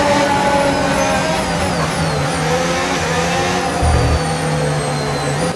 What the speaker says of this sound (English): just listen to the car